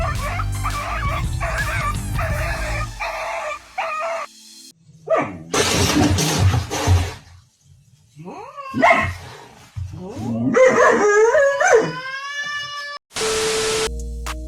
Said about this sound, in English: a rhino who creeps up on a sleeping dog and scared the living daylights out of him